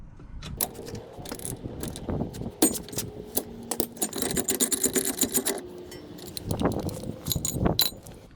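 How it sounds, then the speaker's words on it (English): A tool unscrews the inner tie rod joint on a 2002 Toyota Highlander, giving rapid metallic ratcheting clicks and clattering in bursts, close and fairly loud. "So now I'm going to unscrew the joint."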